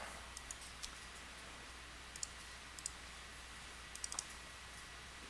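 A computer mouse clicks a few times, sharp light taps scattered across the moment, some in quick pairs, close and crisp over a steady background hiss.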